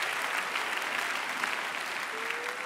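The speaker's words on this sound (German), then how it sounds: "Ja, klatschen Sie, wenn es lustig ist" A crowd at an outdoor Saturday demonstration on Hannover's Steintorplatz claps in a steady, even patter, fairly distant and moderately loud.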